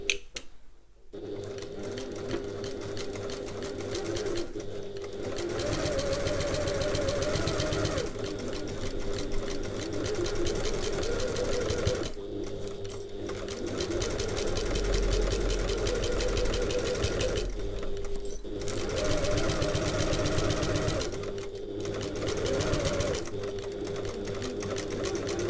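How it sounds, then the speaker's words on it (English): A domestic sewing machine runs long basting stitches along a handbag seam in a steady mechanical whir, with several short pauses between bursts, close and fairly loud. "I'm going to use a long basting stitch"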